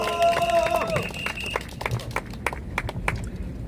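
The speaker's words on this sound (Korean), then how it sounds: "여러분 박수 부탁드립니다." A short electronic tone sequence fades out, then scattered hand claps break out, sparse and uneven, with crowd murmur in the background, at a press conference.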